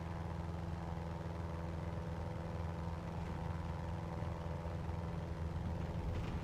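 Steady droning aircraft engine hum from a flight in Microsoft Flight Simulator 2024, continuous and fairly loud with faint creaks beneath, no talking.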